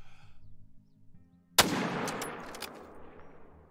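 A single sharp hunting-rifle shot in the Call of the Wild hunting game cracks loudly after a quiet lull, followed by a long rolling echo and a couple of faint distant reports as it fades.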